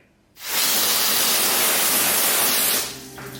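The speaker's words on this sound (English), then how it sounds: "it is still sheeting water off the panel" Water sheeting off a waxed car panel coated with Turtle Wax graphene-infused Flex Wax, a steady close spray-like hiss that starts abruptly, holds for about two seconds, then cuts off.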